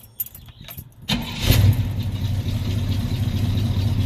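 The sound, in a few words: car engine starting after six days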